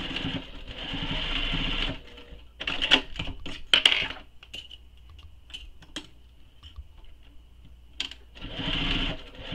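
A home sewing machine basting the short edges of a fabric clutch tab together, with two loud bursts of steady whirring at the start and end and a stretch of clicks, taps and small handling noises between them.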